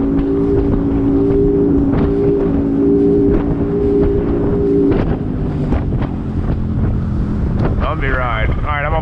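A motorboat engine on the water, taken out for its second outing in fifteen years, runs loud and steady, its drone shifting pitch as the throttle changes, with wind buffeting the microphone throughout.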